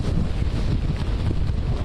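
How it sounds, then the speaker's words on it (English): Hurricane Laura's wind gusts batter an outdoor microphone with a loud, continuous low roar and buffeting, heavy and unbroken for the whole short stretch. "You've got gusts to 71 miles an hour right now, Robert."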